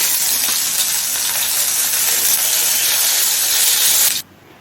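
Strips of peeled gatikochu (taro) dropped into hot oil after frying fish, a loud dense sizzling hiss held steady for about four seconds before cutting off abruptly, close and without talk.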